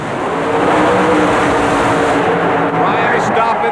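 Chevy Blazer super modified mud racing truck named Devastation at a 1992 indoor event at the Worcester Centrum, engine roaring loud and sustained with a dense, steady, close roar throughout, rising slightly toward the end.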